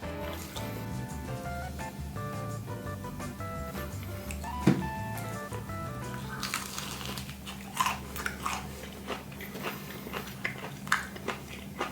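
Biting and chewing crispy fried chicken from a new shop recipe, close crunchy bites and moist chewing sounds over faint background music, no talking.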